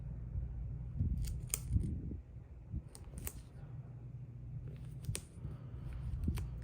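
Close, quiet snips of scissors through paper arrive in short, irregular bursts of crisp cuts with pauses between them, set against a low room hum.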